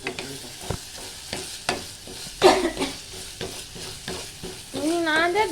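Egg bhurji is stirred and mixed in a sizzling pan, with repeated rhythmic scrapes and clanks of a spoon against metal that grow busier and louder toward the end.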